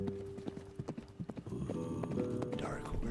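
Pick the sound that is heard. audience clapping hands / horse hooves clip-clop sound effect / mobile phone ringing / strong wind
horse hooves clip-clop sound effect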